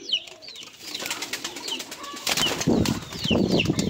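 A pigeon coos close by with soft wing flaps, amid other chirping birds and a rising rustle from the loft, and no talking.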